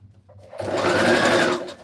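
A sewing machine stitches a seam in one steady burst lasting about a second, close and clear, starting after a short quiet moment and then stopping. No one talks.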